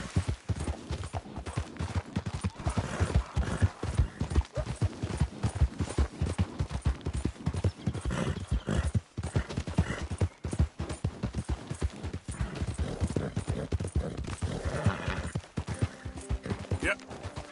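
Horse hooves clip-clop steadily and close in the video game Red Dead Redemption 2, a brisk continuous trotting rhythm, with brief voices speaking over it at times.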